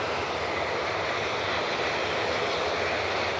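A loud propeller aircraft at Manchester Airport sends out a constant, dense droning roar that stays steady and close for the whole short stretch.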